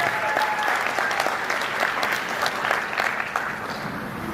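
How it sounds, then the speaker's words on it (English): Guests at a wedding reception give a round of applause, loud close clapping that holds steady and then tapers slightly toward the end, with no talking over it. "Please, let's give another round of applause."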